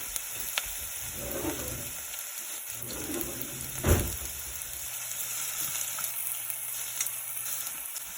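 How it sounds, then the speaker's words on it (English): Onions for barbecue sauce sautéing in a pan, a quiet, steady sizzle with a soft clink of a utensil midway and faint kitchen hum throughout, no talking. "we're going to let those saute for about 3 minutes as well until they're nice and translucent"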